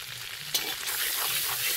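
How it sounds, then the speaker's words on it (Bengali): Whole garam masala and cumin seeds drop into hot oil with a sudden crackling burst, then settle into a steady, close sizzle with no talk. "তো ওই তেলে আমরা গোটা গরম মশলা আর গোটা জিরা দিয়ে দেবো"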